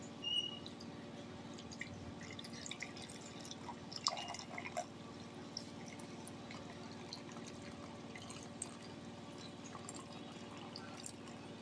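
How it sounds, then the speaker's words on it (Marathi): Quiet trickling and dripping of hot water being poured into a pressure cooker, faint and steady over a low background hum. "आता कुकरमध्ये गरम पाणी टाकते"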